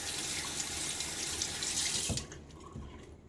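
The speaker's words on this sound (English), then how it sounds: "Let's add just a little bit more water, just a touch, not even a half teaspoon." Water runs from a tap steadily for about two seconds while wetting shaving soap, then cuts off, leaving quiet drips and faint handling sounds.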